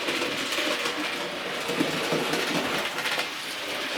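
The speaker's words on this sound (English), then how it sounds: "It does, it runs nice, it's a lovely train, but these do not like tight bends." Model locomotive rolling through a fiddle yard over Peco points, giving a steady, fairly close rumble with faint rail clicks and no speech.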